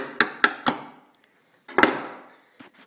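Sharp metallic taps and clanks ring out while a rusted bolt is worked loose with a socket wrench on a Briggs and Stratton small engine: three quick knocks, a pause, then a denser burst and a faint final click.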